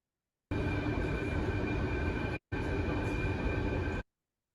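Steady rumble of a newly designed train in motion, broad and continuous with a tonal hum, lasting about three and a half seconds with one brief dropout partway through.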